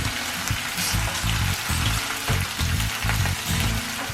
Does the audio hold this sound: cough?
no